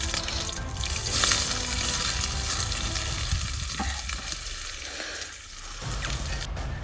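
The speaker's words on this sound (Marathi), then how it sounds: "आता आपण कांदा टाकून घेणार आहे मित्रांनो" Chopped onion goes into hot oil in a pot over a village wood-fire stove for chicken curry, making a loud, close, continuous sizzle and crackle with scraping stirs that eases off near the end.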